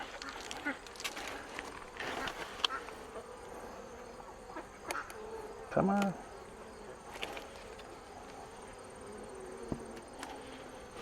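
Honey bees buzz around an open, smoked hive of a nucleus colony split, a faint steady drone with occasional closer passes, and a voice speaks briefly.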